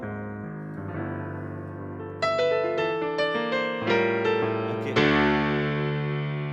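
A custom-made patch on a Yamaha CP1 stage piano rings out in sustained, harmonically rich chords and struck notes, with a brighter attack midway and a final swelling chord, one word spoken briefly.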